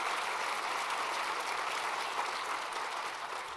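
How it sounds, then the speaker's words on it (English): A conference audience applauds its panelists at a campus energy plenary, a dense, steady round of clapping that fills the room evenly throughout without anyone speaking. "let's give them a nice round of applause, if you would, our panelists"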